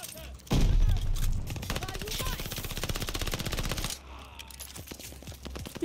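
A PPSh submachine gun in Call of Duty: Vanguard fires a long, loud, rapid burst of about three seconds, with more gunfire and game noise around it.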